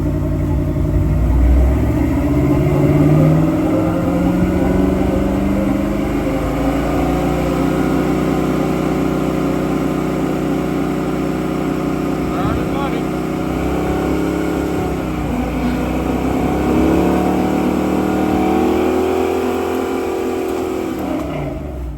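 A car engine revs under light throttle while TSL SX tires are being tested. It runs loud and close for the whole stretch, with a drone that rises and falls and no talk.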